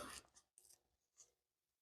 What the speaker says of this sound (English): I get my cutters and trim that off.